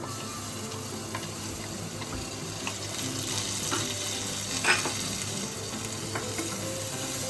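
Crushed carrots and peas sizzle steadily in a hot pan of oil seasoned with asafoetida for Gujarati veg cutlets, a close, even frying hiss with occasional spatula scrapes and no talking.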